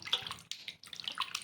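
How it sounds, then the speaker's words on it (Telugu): Salt water is poured onto sliced potatoes for chips, a close, splashing trickle of liquid into a bowl that briefly pauses and resumes, with no talking. "ఇంకా ఇట్లా ఉప్పు నీళ్ళు అయితే వేసుకున్నాము."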